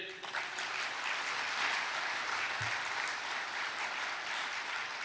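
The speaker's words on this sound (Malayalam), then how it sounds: "ഒന്ന് കൈയടിച്ചേ." An audience at a church sermon claps in a sustained burst, dense and steady at moderate distance, fading slightly toward the end.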